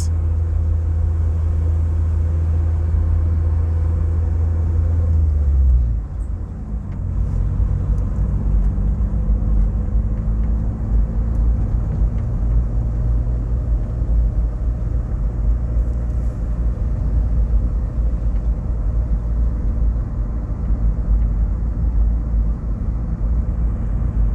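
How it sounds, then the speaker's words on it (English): A car rides along a bumpy rural road between Bogue and Balaclava in St. Elizabeth, Jamaica, giving a steady, loud low engine and road rumble throughout, with a brief drop and shift in tone partway through. "So we're having some bumpy ride right now, so enjoy the ride."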